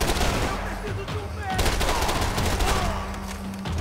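Rapid automatic gunfire and shots crackle in dense bursts during a Max Payne 3 firefight, loud and continuous with game effects layered underneath.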